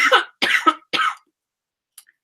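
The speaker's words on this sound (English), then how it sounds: "I'm totally coughing." A man coughs in three hard, separate bursts over about a second, close and loud, then a faint throat sound follows after a pause of quiet.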